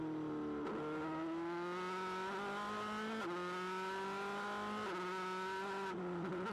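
A Formula 3 race car at the Macau Grand Prix street circuit, its engine whining close and loud at high revs, with several abrupt pitch drops as it shifts up through the gears.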